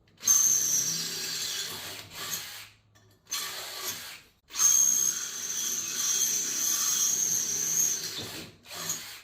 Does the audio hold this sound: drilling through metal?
yes